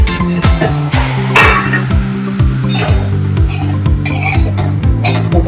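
A spatula clinks and scrapes against a pan while spiced pigeon pea kachori filling is stirred and sautéed, with repeated metallic taps over a steady tonal hum throughout.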